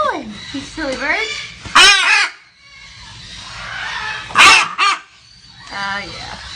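Young scarlet macaw parrots kept as pets let out harsh, raucous squawks in loud bursts, with someone talking between and over the calls.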